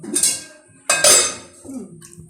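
A spoon stirs chicken broth in a metal pot, clinking and scraping against the sides in two short bursts, close and fairly loud, with no talking.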